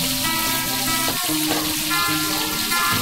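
Ingredients for Acehnese duck curry fry in hot oil, a steady close sizzle with a brief clatter of stirring partway through.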